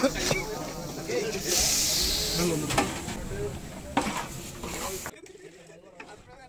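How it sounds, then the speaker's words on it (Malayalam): Kudampuli tamarind water poured into a fish curry, giving a loud hissing sizzle that swells and fades over several seconds, with talk alongside, before it cuts to near silence. "പിന്നെ നമ്മ കഴുകിയെടുത്ത കൊടമ്പുളി വെള്ളം ചേർത്ത് കൊടുക്കണ്ട."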